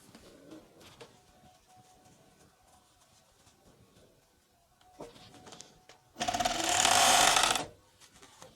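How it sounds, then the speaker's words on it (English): A coverstitch sewing machine runs a shoulder seam joining front and back pieces, a close, loud buzzing whir lasting about a second and a half after some quiet handling clicks and rustles. "we're going to sew one shoulder seam together, only one"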